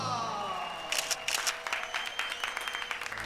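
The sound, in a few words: people clapping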